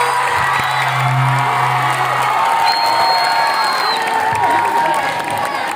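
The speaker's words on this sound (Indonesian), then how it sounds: "Tolong tepuk tangannya." Students at a school election debate clap and cheer for the third candidate pair, loud crowd noise with whoops and shouted voices over steady applause, echoing in a large hall.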